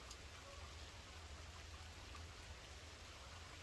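Soft, steady rain patters on a metal roof, a continuous faint hiss of drops with no voices.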